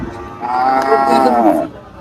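At a cattle market in Faridpur, where a truck is being unloaded, one animal gives a single long, loud, close moo lasting over a second, with no talk over it.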